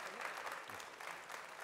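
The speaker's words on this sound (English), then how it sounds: "Applause, applause for Christos Sotirios." A barista championship audience gives a short burst of applause, a dense, steady patter of many hands clapping at low volume, with a voice faintly mixed in.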